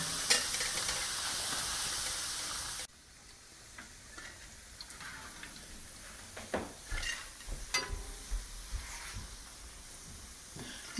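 Struffoli dough balls fry in hot oil with a steady hiss, and a loud burst of bubbling at the start drops to a quieter sizzle. Scattered stirring clinks and scrapes follow near the pan.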